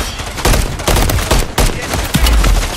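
Rapid bursts of gunfire in Call of Duty: Modern Warfare III, loud close volleys in a choppy rhythm of repeated automatic shots with brief gaps between bursts, no talk over them.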